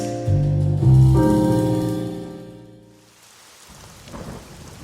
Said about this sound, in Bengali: বৃষ্টি হচ্ছে বটে। এই বৃষ্টি তো আজ আর থামবে বলে মনে হচ্ছে না।